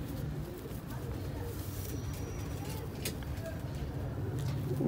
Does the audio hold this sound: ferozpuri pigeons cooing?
yes